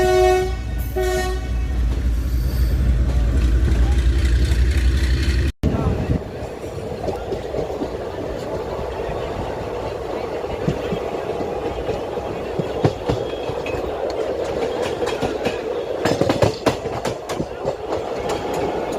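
Somnath Ahmedabad Intercity Express hauled by the locomotive Angad, heard from on board: a loud horn blast at the start, then a steady rumble and clatter of the wagons rolling on the rails, with faint voices in the background.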